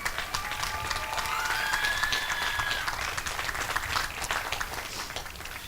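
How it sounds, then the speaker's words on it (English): Commencement ceremony audience applauding campus custodians and facilities staff, a sustained, dense crowd clapping with a few whoops, moderately loud and continuous throughout, no speech over it. "Yes, please applause."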